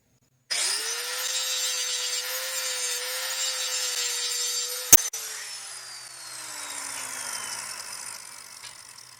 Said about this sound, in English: It's so much easier to do this with the belt grinder